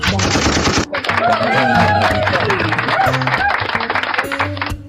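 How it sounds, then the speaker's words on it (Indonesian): Rapid bursts of gunfire sound effects rattle loudly and continuously at close range, mixed with a musical tone and rhythmic beats, with no one speaking over them. "Pakai ada tembak-tembak."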